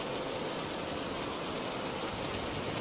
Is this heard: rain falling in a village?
yes